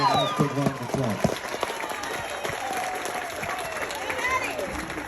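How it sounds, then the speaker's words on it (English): A crowd claps at a county fair FFA market hog championship, with steady applause and cheers close by, and an announcer talks over it at the start. "Let's give her a nice big round of applause."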